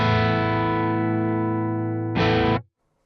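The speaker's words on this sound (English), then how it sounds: "Currently, with all of the post effects bypassed, my guitar sounds like this." Electric guitar through the Archetype Plini X plugin with post effects bypassed: a sustained, harmonically rich chord rings steadily, then a second brighter chord is struck near the end and cut off abruptly, alone and close.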